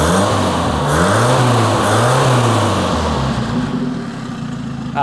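A Toyota RA28 Celica fastback engine, fitted with only half an exhaust, runs close by with a throaty, slightly rough note, rising and falling through a couple of revs before settling toward idle.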